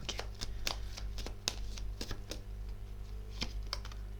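Tarot cards being shuffled and handled during a reading, a run of quick papery flicks and taps in irregular bursts, close and fairly soft, with no talk.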